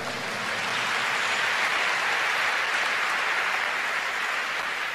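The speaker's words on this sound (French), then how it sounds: "On acclame Jésus." Church meeting audience applauding and acclaiming Jesus, a steady dense wash of clapping from many hands that holds at an even level throughout, with no talk over it.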